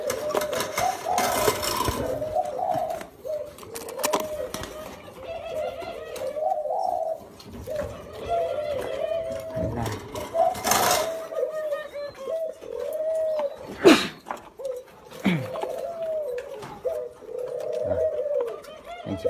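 Young doves cooing at a bird-rearing farm, soft repeated coos in a steady rhythm close by, with other bird calls and a brief sharp clink partway through.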